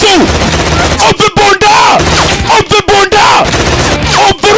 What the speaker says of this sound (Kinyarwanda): imbunda umva rusasu